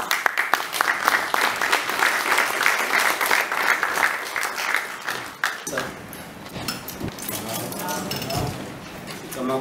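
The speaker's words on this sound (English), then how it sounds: "we welcome you just with a round of applause" Audience applause greets the opening of a talk at the University of Fort Hare, a dense steady clapping for about five seconds that then thins into scattered claps and low crowd murmur.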